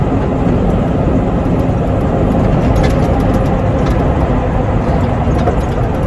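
Semi truck engine droning steadily and loudly while the driver shifts gears, a constant heavy rumble with no clear breaks, heard from inside the cab.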